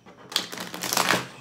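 A deck of tarot cards is shuffled up close, a rapid riffling patter of card edges that builds and stays busy for over a second, with no talking.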